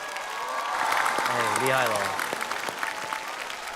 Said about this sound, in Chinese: 再次把掌声送给他们。